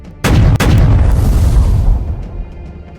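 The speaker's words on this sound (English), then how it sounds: "the French brigs fire several long-range shots at the Victory" Cannon broadside fire between sailing warships in the naval game Black Seas, with French brigs firing long-range shots: a sharp opening blast, then a second heavy report, rolling into a loud, sustained booming rumble that slowly fades.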